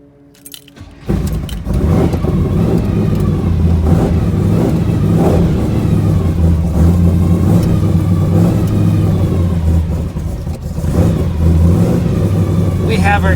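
A squarebody GMC Jimmy with a freshly installed big block engine and newly built exhaust revs loud and close, a steady heavy rumble that runs almost the whole time, starting after a quiet opening second, with a voice talking underneath.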